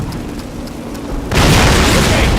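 A flak panzer blown apart by planted explosives in Call of Duty: after a short quieter lead-in, a sudden loud, close boom bursts out and roars on as a dense, sustained blast.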